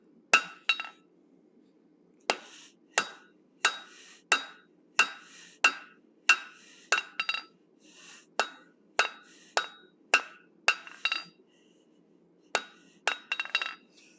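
Hammer blows ring out on hot steel as an animal head is forged, shaping the jawline with shoulder-to-shoulder strikes: about twenty sharp, ringing metallic hits in quick bursts with short pauses, close and clear over a low background hum.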